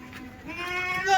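A Kathiyawadi goat's wavering bleat on a goat farm rises and stretches out, close and fairly loud, with a second call following right after.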